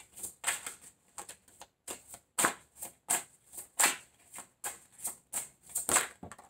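A deck of cards shuffled and cards drawn, giving a series of soft, quick riffling and flicking bursts at an uneven rhythm, close and fairly quiet with no talk.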